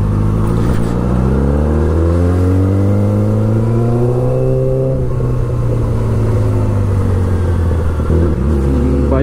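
A Yamaha R6 sport bike's engine, just warmed up after a cold start, hums steadily while riding, its pitch sweeping up and easing back down in a loud, close, continuous drone with no talk.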